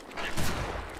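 A short burst of video game gunfire, with one loud blast crackling through the middle of a brief, noisy moment.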